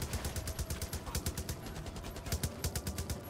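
Rapid machine-gun fire in Far Cry 5, an unlimited-ammo weapon that overheats, firing in steady bursts of sharp repeated shots at moderate level, close and alone without speech.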